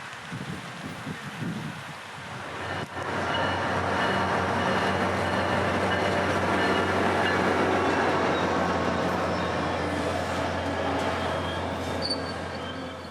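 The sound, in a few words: approaching train passing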